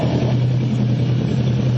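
A motorcycle engine idles in a steady, close, low hum that holds at an even level throughout, with no voices.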